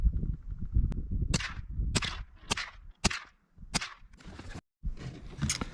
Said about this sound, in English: 10 rounds out of the Ruger American. This is once again the Winchester bulk pack.